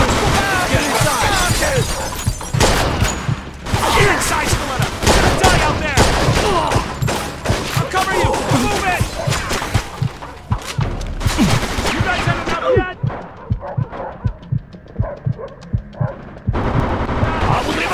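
Mafia II machine gun fire, a dense, continuous barrage of close, loud gunshots with shattering debris and shouted voices underneath, easing off briefly near the end.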